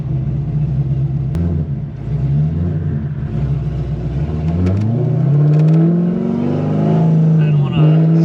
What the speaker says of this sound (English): Totally calm, cool, collected sounding exhaust.